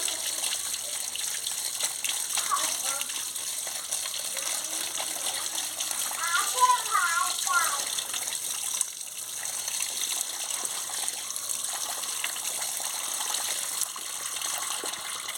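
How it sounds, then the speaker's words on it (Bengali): Tap water runs steadily while drumstick flowers are rinsed clean, a continuous wet gushing in a home kitchen, with brief clinks and splashes from handling midway through. "এই যে ফুলটা ভালো করে ধুয়ে নিচ্ছি।"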